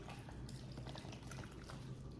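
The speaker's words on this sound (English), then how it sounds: "I'm going to take my big jug of water here and kind of just try and get this throughout the soil" Water poured from a big jug onto potting soil in a seed-starting tray, a steady wet splashing and trickling that runs the whole time, close and continuous with no voices.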